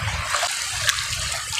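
Water of the Ipunan River flows and trickles steadily with light splashes, a continuous close wash of noise with no talk.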